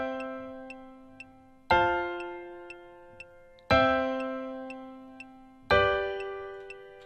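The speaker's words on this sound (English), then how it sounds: "I already have the chord progression put in for us." Synthesized chord progression programmed in Soundtrap, with sustained chords striking on a steady beat roughly every two seconds, soft repeating high ticks between them, clean and alone with no talking.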